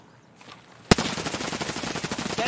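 RPK machine gun in Escape From Tarkov opens up after a quiet start, a sharp first shot followed by a rapid, steady stream of automatic rounds, loud and close.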